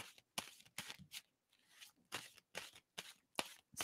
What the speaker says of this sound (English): And someone to stop shuffling.